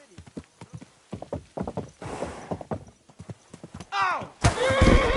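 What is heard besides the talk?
horse hooves and whinny in Kingdom Come: Deliverance II video game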